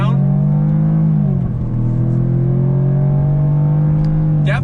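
A 2021 Jaguar F-Type's engine pulls strongly under acceleration, with a steady rising drone that dips briefly and falls as the automatic gearbox shifts, heard from the cabin.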